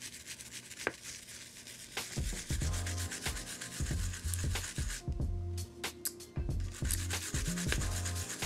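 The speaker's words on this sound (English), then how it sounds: "Then why are you toothbrushing it?" A toothbrush scrubs a Mechwild Clunker keyboard case, giving close, continuous bristly rubbing that changes in stroke and intensity, with a few soft clicks and knocks mixed in.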